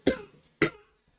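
Two distinct close coughs about half a second apart, each a sharp burst fading quickly, with no speech around them.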